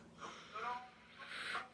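Two drawn-out breathy yawns follow one another, each a soft rising and falling airy exhale, quiet and close.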